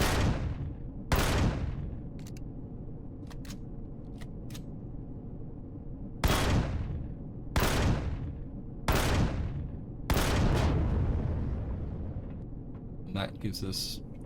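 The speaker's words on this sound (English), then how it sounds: "Let me just shoot this with the." Weapon fire in Empyrion Galactic Survival: a handful of sharp, loud single shots with long ringing decays, spaced a second or two apart, plus a few small clicks, with someone speaking quietly between them.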